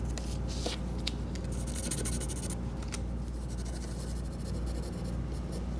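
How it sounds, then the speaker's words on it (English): A pencil scratches steadily as it traces the ends of a metal part for a Briggs & Stratton-powered buckboard flyer, soft continuous scraping over a low workshop hum. "Now all I got to do is take a pencil and trace the ends"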